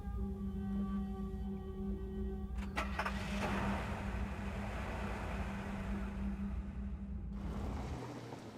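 A car driving down a lane toward a house in the 2001 film Harvesters, heard as a droning engine with steady tones, a clunk near the middle, then a broad rushing wash that fades off at the end.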